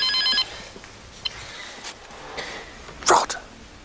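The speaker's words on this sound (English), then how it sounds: "It's my mobile phone that's ringing." A short burst of electronic phone ringing at the start, then a quiet room with scattered small noises and a louder clatter near the end.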